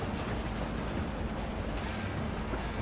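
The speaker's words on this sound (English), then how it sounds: "Kind of want to jump onto the train" A train rumbles past steadily in a video game, a dense low rolling clatter that stays even and moderately quiet throughout with no voices.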